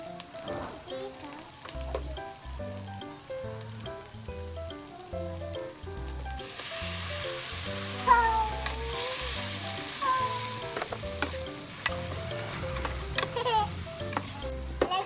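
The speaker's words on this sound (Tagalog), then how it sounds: "igigisa lang po namin" Onion and corned beef sautéing in a pan, a loud, steady sizzle that swells partway through with stirring scrapes, over music and faint talk.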